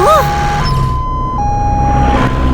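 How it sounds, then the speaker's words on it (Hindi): An ambulance siren wails nearby in a steady two-tone pattern, loud and close with a rumbling engine underneath, while a brief voice cuts in at the start. "एम्बुलेंस भी आ गई।"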